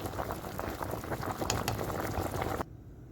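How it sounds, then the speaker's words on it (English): Lasagna noodles boil in a pot of water, a steady dense bubbling and roiling with scattered pops that cuts off abruptly near the end, leaving near silence. "the lasagna noodles are going to cook for 8 minutes"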